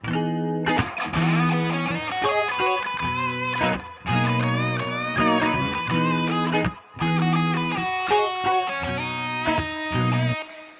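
Two electric guitars play together, a clean picked part under a thick distorted one, in loud repeating phrases with short breaks between sections.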